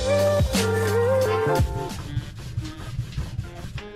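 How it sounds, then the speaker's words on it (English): Close, squeaky rubbing with a whining tone at first, then a series of rhythmic gritty back-and-forth strokes of wet sanding with 2000 grit wet sandpaper. "I took some 2000 grit wet sandpaper, because that's all I had left, and wet sanded that thing"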